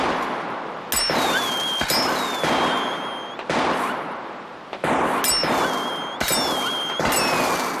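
Gunshots from a 1993 Finnish film scene in which police open fire, with ricochets off an axe. About nine sharp, loud reports come at irregular intervals, each followed by a decaying ring and metallic whine.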